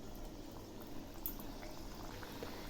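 Biscuits frying in hot oil in a wok on low heat, a faint, steady bubbling sizzle throughout with no speech.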